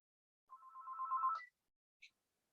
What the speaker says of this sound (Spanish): alguien suena el teléfono.